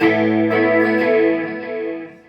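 Strummed Schecter electric guitar chords through a HELIX LT clean tone, bright and biting with effects, several strokes ringing together before fading toward the end.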